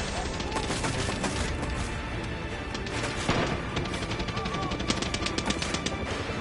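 Rapid automatic gunfire in the video game Far Cry 6, dense sustained bursts of shots with a few heavier booms, loud and continuous throughout.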